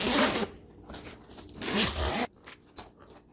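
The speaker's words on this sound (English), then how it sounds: "Zippers." A zipper on a waterproof makeup train case is pulled open in a few quick, close, raspy strokes, followed by softer handling clicks.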